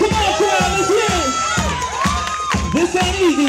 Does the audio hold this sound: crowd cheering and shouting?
yes